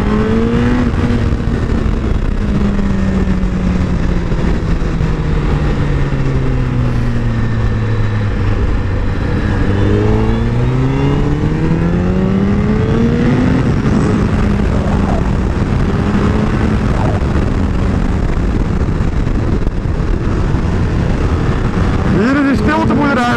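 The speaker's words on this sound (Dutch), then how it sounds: "Originele uitlaten, dat telt toch soort van als stil." Engine of a KTM Duke 125 motorcycle on stock exhausts, droning loud and steady throughout as it rises and falls through the revs on a bumpy road, with wind rush mixed in.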